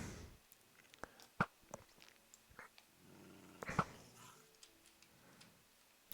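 A dog growls in a hardcore vanilla Minecraft world, version 1.17.1, a faint low rumble broken by soft clicking ticks, quiet and alone without talk.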